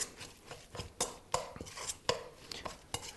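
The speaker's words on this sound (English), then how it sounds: "I'm going to just take this spoon and mash these all together." Cooked potatoes being mashed together with a spoon in a bowl with olive oil for potato knish, a series of close, irregular clacks and squelches, no talk.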